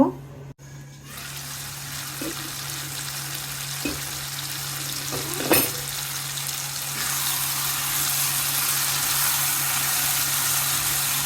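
Broad bean seeds cooking in a pan for a rohu fish curry, a steady soft sizzle with a few small clicks and knocks, growing louder and brighter toward the end.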